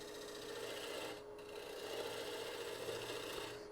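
Large bowl gouge cutting across an ash bowl spinning on a lathe, a steady rasping scrape of wood that runs continuously with a brief dip, close and moderately loud.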